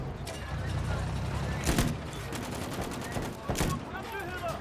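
Gunfire in the Battlefield V video game, with two sharp shots standing out over a steady mix of game noise and low rumble, plus fainter rapid pops in between.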